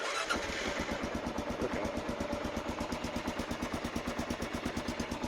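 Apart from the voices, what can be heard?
2014.5 Kawasaki KLR 650 motorcycle engine starting and idling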